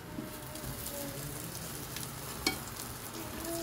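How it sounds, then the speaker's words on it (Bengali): Eggplant fries in a pan with a quiet, steady sizzle and soft crackle, heard from a little distance. A single sharp clink sounds partway through, and no one talks. "বেগুন ভাজা হয়ে গেছে।"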